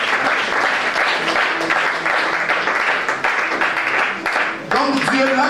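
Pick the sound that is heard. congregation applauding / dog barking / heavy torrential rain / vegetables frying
congregation applauding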